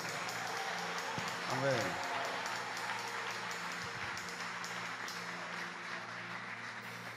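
An audience at a church youth conference applauds, a steady wash of clapping that runs under a voice speaking and calling out.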